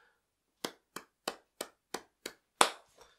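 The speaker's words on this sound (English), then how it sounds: "I'm just clapping for the song." A single person claps their hands seven times in a steady, even rhythm, close and dry with no other sound, the last clap landing harder before a faint trailing tap.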